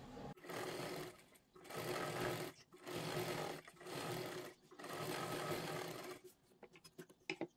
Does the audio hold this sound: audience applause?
no